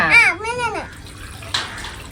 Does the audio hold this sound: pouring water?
yes